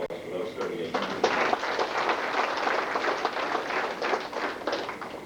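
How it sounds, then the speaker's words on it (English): An audience applauds the 38 FFA members at a Dustin FFA banquet, steady, moderately loud clapping building after a second and continuing to the end. "we give those a round of applause for those 38 members"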